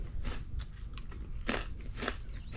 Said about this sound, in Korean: 바삭바삭 부서지는 소리 들리죠?